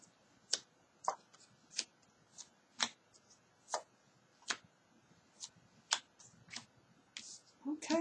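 Tarot cards being shuffled, heard as a dozen crisp, fairly close riffling snaps at irregular intervals over a quiet background.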